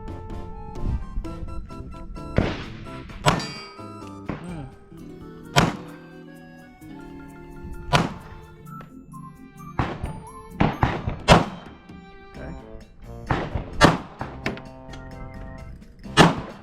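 Pistol shots at a shooting range, with a Glock 45 and a Taurus G3 being compared. A series of loud, muffled thumping reports comes at irregular intervals, some in quick pairs, over faint background noise.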